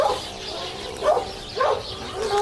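A small elderly dog fed on canned food gives three short, fairly close yips or barks spaced about half a second apart, over a quiet room background with no one speaking.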